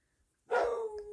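A single short dog bark, close and fairly loud, with a brief tonal tail fading out, alone with no talk.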